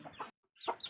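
Newly hatched chicks give two short, soft cheeps close by, separated by a brief silence.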